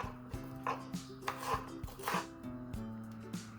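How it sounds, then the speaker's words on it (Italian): A knife finely chopping a small piece of onion on a cutting board, giving a run of sharp, evenly spaced taps close by at a quiet level, with a low steady hum underneath. "Per prima cosa tagliamo finemente un pezzetto di cipolla."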